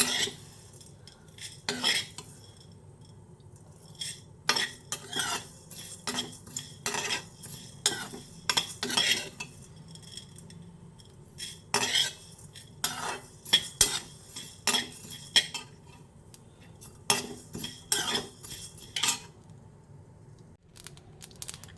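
Dried shrimp shells dry-roasting in a bare pan without oil, stirred with a metal utensil: irregular scraping and clinking strokes in bursts, fairly quiet and close, with no talk.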